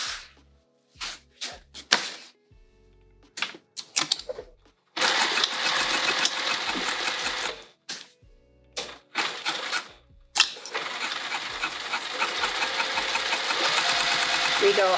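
A home sewing machine stitches a tote bag seam with no foam or interfacing, running in steady bursts: short stop-start runs early, then longer continuous stitching passes, loud and close, with brief pauses between.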